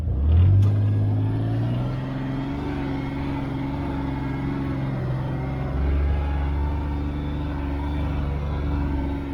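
A Kawasaki Mule Pro-FXR utility vehicle's engine drones steadily in low gear while climbing a hill, a close, continuous low hum with slight shifts in pitch and no talking.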